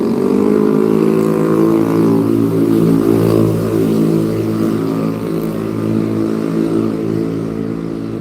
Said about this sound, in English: That's scooter loud as hell.